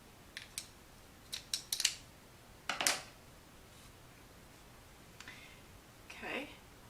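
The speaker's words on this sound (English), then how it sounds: "Cut off the yarn." Scissors snipping crochet yarn, several quick, crisp cuts and clicks in an uneven sequence, close and quiet with no other sound around them.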